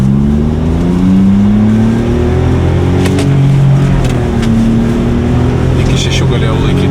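A Smart car fitted with a motorcycle engine revs hard to about 5,500 rpm and shifts gears during a launch, its pitch climbing and dropping at each change. Loud and close, with voices talking over it.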